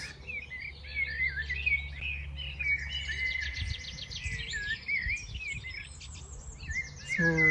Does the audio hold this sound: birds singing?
yes